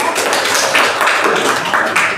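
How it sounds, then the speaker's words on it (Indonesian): Classroom students clapping together after a lesson, a brief burst of dense, close applause with uneven taps, no speech over it. "Oke, tepuk tangan dulu."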